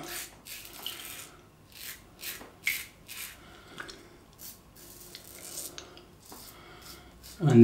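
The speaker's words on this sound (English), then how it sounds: "You can feel the blade doing its thing, you can hear it as well." Close, quiet rasping strokes of a Merkur 37G slant razor with a Gillette Wilkinson blade scraping across lathered stubble, coming in short irregular bursts with soft pauses and a louder knock at the end.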